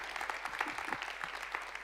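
Audience applause at a universal health coverage event as a guest is welcomed on stage, a steady wash of clapping throughout with no talk over it.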